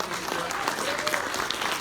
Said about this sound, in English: Big round of applause again for Peter Atkins, Tony Randel, Doug Bradley.